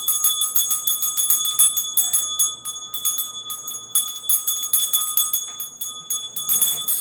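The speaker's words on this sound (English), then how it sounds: "So let's ring the bell, cleanse the energy" A bell rung to cleanse energy before a tarot reading, with sustained bright ringing tones that shimmer and decay continuously throughout, struck repeatedly in a steady rhythm, close and clear with no talking.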